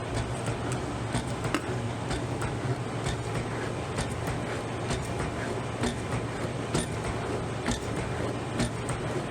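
A slotting machine plunging in fast while cutting a keyway, producing a continuous loud rough rumble with repeated clacking strokes, with no talking.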